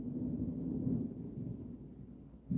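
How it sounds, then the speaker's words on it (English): A thunderstorm begins outside, heard as a deep, continuous low rumble that swells and fades slightly, with a brief louder burst at the very end. "a thunderstorm just started."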